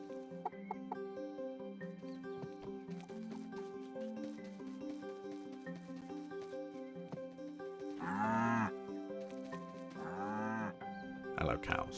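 Cows in the farming video game Staxel give two long, drawn-out moos near the end, loud and close, layered over cheerful game music with a few short clucks earlier.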